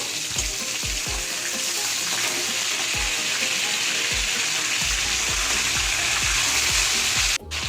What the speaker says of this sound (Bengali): দেখুন ডুবো তুলে কিছু মাছ ভাজছি, মাছ কিন্তু একটাও ফাটছে না।